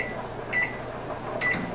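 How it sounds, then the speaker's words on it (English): A microwave oven runs while melting butter, giving a steady close hum with two short high beeps about a second apart. "This is going to go inside of my microwave for 2 minutes."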